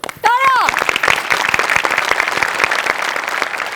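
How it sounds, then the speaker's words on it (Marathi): A comedy show audience breaks into loud, dense applause, opened by a brief rising whoop or whistle, then a steady clatter of many hands close by. "टाळ्या"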